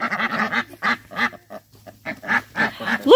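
Farm ducks on a homestead quack in a lively, repeated series of nasal calls, close by and loud, with short pauses between bursts and no talking.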